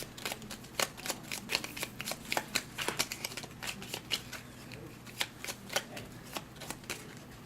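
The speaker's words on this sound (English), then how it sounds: "we're going to shuffle it in the deck." Playing cards are shuffled in a series of quick riffling bursts and taps, close and clear, with no talking.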